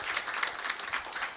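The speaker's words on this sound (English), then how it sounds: "may give him at least a warm round of applause as he walks in" Warm applause from an event audience greets a panelist walking in, brisk overlapping clapping that stays even and fairly close for the short stretch.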